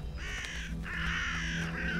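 Ravens caw in harsh, drawn-out calls, two or three strident cries in quick succession, close and clear over a low background hum.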